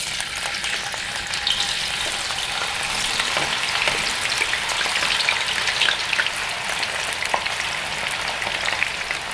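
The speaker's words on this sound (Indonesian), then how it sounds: "Kita goreng tahunya dulu ya." Tofu fries in hot cooking oil with a constant, crackling sizzle and scattered pops, close and loud, holding steady throughout with no talk.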